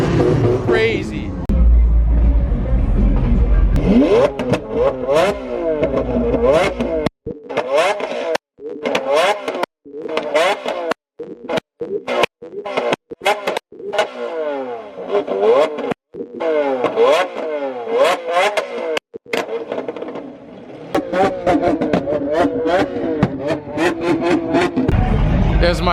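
A Lamborghini Aventador with a Mansory exhaust revs loudly again and again in sharp bursts at a Toronto car meet, with raspy exhaust cracks between, close by; some talk at the start.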